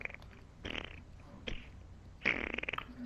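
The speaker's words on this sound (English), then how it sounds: "Your farts are kind of juicy today." Several short, wet, sputtering farts come in bursts over a few seconds, close and fairly quiet, with no talking.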